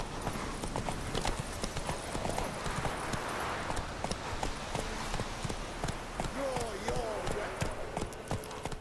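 Steady clip-clopping hooves as Geralt rides the horse Roach in The Witcher 3, a continuous trotting rhythm under game music with a voice speaking faintly over it.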